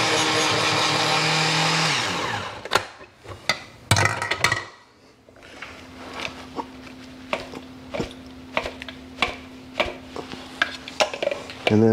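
Jalapenos for chili are chopped in a food chopper: a loud whirring burst comes first, then a run of sharp, irregular chopping clicks and thuds close by, with no talking.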